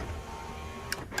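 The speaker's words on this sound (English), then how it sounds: "you can see my window goes up and down" A Ford Mustang power window motor hums steadily as the glass travels, ending with a couple of sharp clicks and a soft thump at the end of its travel, close and fairly quiet.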